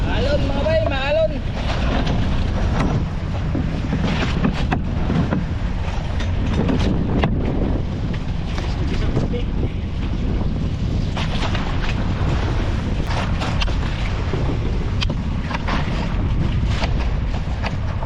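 Heavy wind buffeting the microphone over the rumbling of a boat riding a rough, wavy sea, loud and continuous throughout, with a voice speaking briefly.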